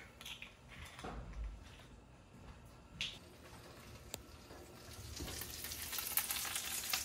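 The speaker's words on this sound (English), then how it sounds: "Nice and golden, sizzling." Beef bones and vegetables roasting turn golden and sizzle quietly and steadily in a pan, with small pops and clicks and faint kitchen clatter over the frying hiss.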